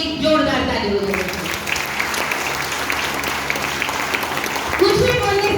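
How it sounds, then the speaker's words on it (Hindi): An audience gives loud, sustained applause for business partners at an event, dense clapping throughout with a voice cutting in near the start and again at the end. "मैं चाहूंगी उन सारे हमारे बिजनेस पार्टनर के लिए एक जोरदार ताली हो जाए"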